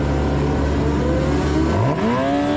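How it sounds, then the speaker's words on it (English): F1000 race car engines revving on the grid at a race start at Silverstone, a loud sustained buzzing roar heard onboard that climbs sharply in pitch near the end as the car pulls away. "Engines are revving because the lights are"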